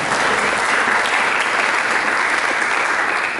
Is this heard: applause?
yes